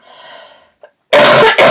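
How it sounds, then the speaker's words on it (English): Two sharp, loud coughs in quick succession, close up, after a brief soft sound; no talking. "I can't stop coughing."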